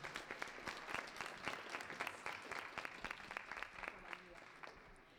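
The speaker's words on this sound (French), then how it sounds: "On applaudit s'il vous plaît." A beauty pageant audience applauds a contestant: steady, moderately loud clapping with dense individual hand claps running throughout, tapering slightly near the end.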